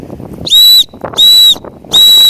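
Three loud, shrill blasts of a survival-kit signaling whistle, each about a third of a second long, evenly spaced with quiet gaps between them.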